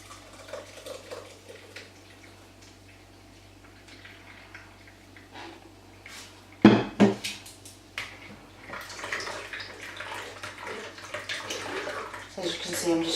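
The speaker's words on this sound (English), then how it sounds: "I'm just straining through the juice, making sure that I don't get any of the carrot trash in there" Carrot juice is strained through a sieve while a spoon presses out the pulp, giving a soft, wet trickling and sloshing with light scraping and clinks that grow busier toward the end.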